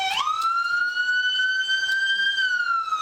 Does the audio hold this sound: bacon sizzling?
no